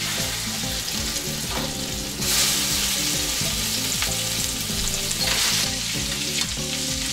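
Meatballs fry in a pan with a steady, close sizzle and crackle of hot oil, overlaid by bright background music and occasional stirring bumps.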